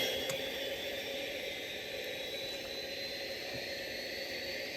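Steady roar of FedEx MD-11F jet engines spooling at takeoff thrust in the SimplePlanes flight game, a dense continuous broadband rush with no talk over it.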